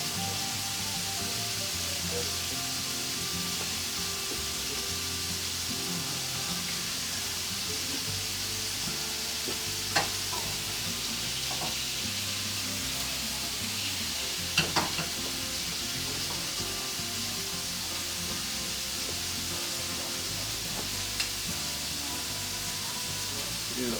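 Meat browns in a hot pan with a continuous close sizzle, broken by a few sharp spatters and pops, over a low background hum.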